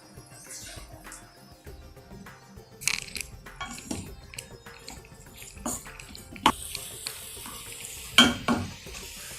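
Potatoes sauté in a pan in a home kitchen, with faint sizzling and intermittent scraping stirs that rise to a few sharper clatters, heard close and fairly quiet with no talking.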